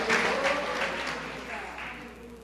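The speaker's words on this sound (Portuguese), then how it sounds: "Aplauda o Senhor, meu irmão" Congregation applauding during a service at Igreja de Nova Vida do Catete, a soft wash of clapping mixed with voices, moderately loud and gradually easing.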